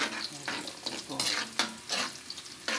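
Onion and garlic sizzle steadily in a frying pan while being stirred, with repeated scraping strokes and faint clinks of utensil against the pan, close and fairly loud.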